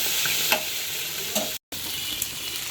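Potato and flat bean bhaji fries in a pan with fresh coriander, giving a steady close sizzle with scraping stir strokes and a brief dropout partway through.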